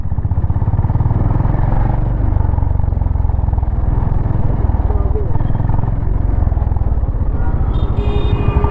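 A Honda CB350RS motorcycle accelerates while being ridden, its loud, steady engine rumble and drivetrain clatter filling the whole stretch close to the rider, with no talk over it.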